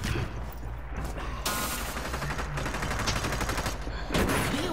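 Rapid bursts of gunshots in the shooter game Hyper Scape, loud and steady with brief lulls and a sharper flurry near the end.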